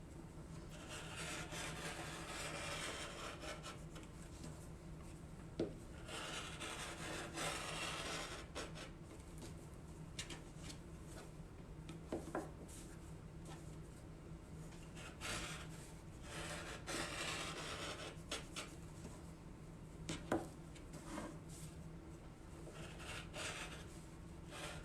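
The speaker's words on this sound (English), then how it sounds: "And now we're just cutting it into strips with leaving one side attached yet." Scissors snip an old t-shirt into strips for t-shirt yarn. Soft, close, repeated fabric cuts and rustling run steadily throughout with no voice.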